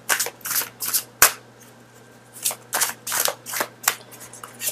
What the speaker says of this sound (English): I'm going to pull out a few more cards